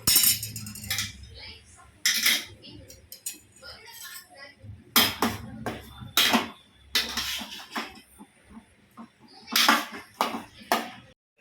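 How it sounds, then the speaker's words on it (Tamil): Metal spoon scraping and clinking against a pan while thick mango jam with chili powder is stirred, sharp irregular knocks and scrapes at close range over a low hum. "இன்னும் கொஞ்சம் கிண்டி விட்டுக்கிடுவோம்"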